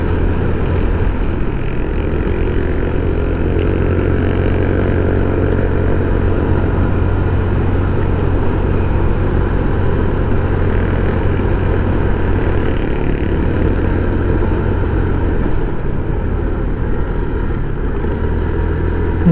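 Motorcycles labouring up a steep, dark mountain road at night, a loud steady engine drone that holds close and constant throughout with no pauses.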